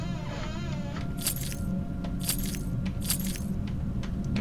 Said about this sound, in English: Here's some of the keys.